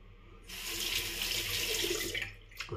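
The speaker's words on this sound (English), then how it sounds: "Put on water, and I use cold water." Cold water gushes from a tap into a sink, a steady broadband rush starting abruptly and running for about two seconds before being shut off, close and without talk.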